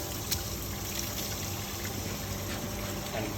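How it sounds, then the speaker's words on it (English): Water and excess milk drain from opened dairy milk filters on a farm, a steady wash of trickling liquid at moderate level with faint clicks, nothing else over it. "let all the water and excess milk drain out"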